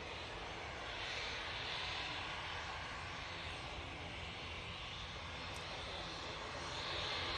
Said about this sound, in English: So, this Embraer Phenom is going off to Palma de Mallorca, and he's actually turning and burning double quick on me.